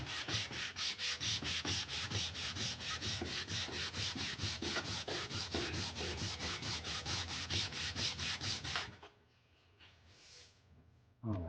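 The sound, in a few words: sanding a piece flat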